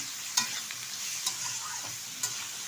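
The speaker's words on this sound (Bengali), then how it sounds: "ভালো করে এবার নেড়ে চেড়ে নেবো তেলের সাথে" Ridge gourd frying in oil sizzles softly and steadily in a pan, with a few sharp scrapes and clicks from a spoon as it is stirred, and no one speaks.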